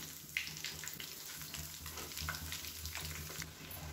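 Potato snack deep-frying in hot oil, a steady close hiss and bubbling sizzle running throughout with a few faint clinks, no voices.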